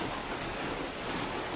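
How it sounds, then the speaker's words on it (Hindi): Rain falls steadily and continuously outdoors as a dense, even hiss with no breaks and no voices. "कंटिन्यूसली बारिश हो रही है।"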